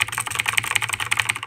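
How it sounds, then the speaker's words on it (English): Rapid typing on a clicky computer keyboard at a streaming desk, crisp close-up key clicks in an even, quick rhythm with no speech. "But I love this keyboard. It's a clicky keyboard."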